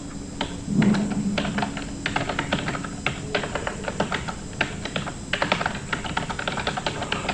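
A line typed on a computer keyboard in Notepad: fast, irregular key clicks in close succession throughout, near and clear, with short pauses between bursts and no talk.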